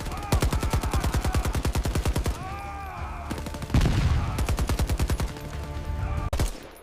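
Rapid automatic gunfire in a sci-fi short, with loud bursts of evenly spaced shots, a brief pause, then another sustained volley with a heavy low boom partway through.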